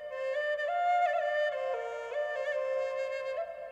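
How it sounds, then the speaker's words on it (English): Walls singing in the Ara Fell video game, a soft wavering melodic tone with layered harmonics, gliding between sustained pitches alone without talk. "and now the walls are singing to me?"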